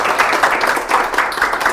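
A group of students claps together in a room, a steady close burst of applause with no voices over it.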